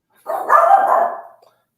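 Ruby the dog lets out a single drawn-out, breathy bark or yowl, loud and close, standing alone against silence.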